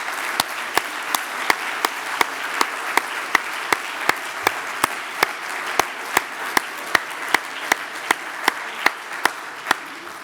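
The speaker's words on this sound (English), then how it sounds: "give yourselves a huge round of applause" At a sales conference, an audience applauds in a loud, continuous wash of clapping, punctuated by sharp, evenly spaced beats that keep a steady rhythm throughout.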